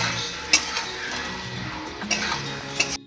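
Spoon stirring turmeric into matar dal in a metal pan, soft scraping with a few sharp clinks against the pan over a faint sizzle, close and steady.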